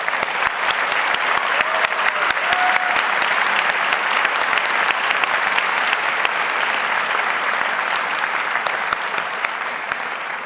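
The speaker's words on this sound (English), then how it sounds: "your parents, a round of applause" Audience at an honors convocation applauding for families and parents, a dense, sustained clapping that stays loud and even for about ten seconds before easing slightly at the end.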